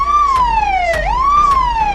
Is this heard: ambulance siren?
yes